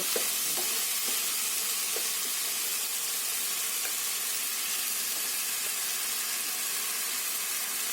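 Shredded cabbage frying in hot oil in a pan for a Maharashtrian cabbage masala sabzi, with a steady close sizzle running throughout and a few stirring scrapes and clinks near the start.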